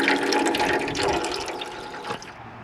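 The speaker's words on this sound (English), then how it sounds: "just let the clean water flow through" Clean water runs through the radiator of a 2014 Mercedes-Benz Sprinter van as old coolant drains, a faint steady splashing trickle that carries on without a break and with no talk.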